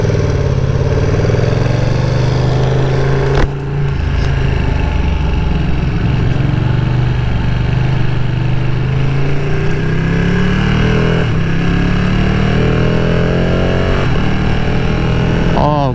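A 2020 Ducati Panigale V2 under way, engine droning loudly and steadily with its pitch climbing through the gears and shifting, over constant wind rush.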